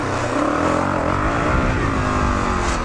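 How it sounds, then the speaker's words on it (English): A vehicle's engine revs hard and steadily during a wheelie attempt, a loud, close, continuous roar with no pauses. "See if I can pull a wheelie off."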